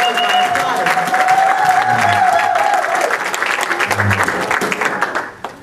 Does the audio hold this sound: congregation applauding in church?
yes